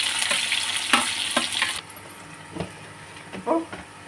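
Onions and tomatoes sauté in a pan for a home-style egg curry, giving a close, steady sizzle with scattered stirring clatters that quiets partway through, without speech.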